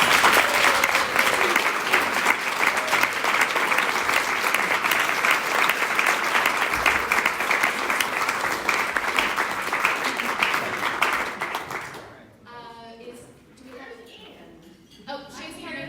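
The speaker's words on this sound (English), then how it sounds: "can we get a big round of applause?" An audience at a social justice panel breaks into dense, loud applause that holds steady for about twelve seconds, then cuts off as a voice begins speaking.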